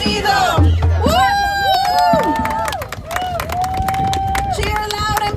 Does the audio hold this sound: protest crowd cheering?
yes